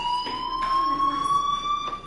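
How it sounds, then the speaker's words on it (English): A school fire alarm sounds inside the video game Life Is Strange, a steady high electronic tone held throughout with faint pulsing layers, moderately loud and without speech. "Hey, do you hear that fire alarm?"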